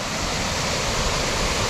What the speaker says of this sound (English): And already we have this waterfall